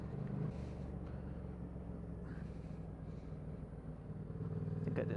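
A motorbike cruises slowly around town, its engine giving a steady, low rumble throughout with no gear changes or bursts of speed.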